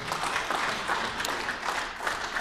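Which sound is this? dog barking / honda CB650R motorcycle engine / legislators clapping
legislators clapping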